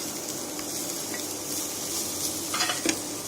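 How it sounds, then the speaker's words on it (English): Carrots stir-fry in a pan with a steady close sizzle, joined by soft scraping and stirring, a few brighter clinks near the end, with no talk. "Our carrots have been stir frying for around 1 minute"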